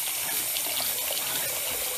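Water runs steadily into a bathroom sink basin while the drain stopper holds it back. The flow is a continuous, close and fairly loud gush with no voices.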